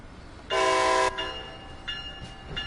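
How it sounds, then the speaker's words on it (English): A Caltrain train horn in Train Sim World 2 gives one loud, steady blast of about half a second. Two shorter, fainter horn toots follow over quiet background rumble. "So this is the horn."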